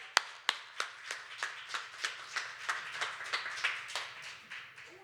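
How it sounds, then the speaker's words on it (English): At a poetry slam in Dayton, a small audience claps for a poet; sparse, distinct hand claps in a quick, fairly even rhythm, fairly faint and with no talking. "Please give a huge round of applause to Corey"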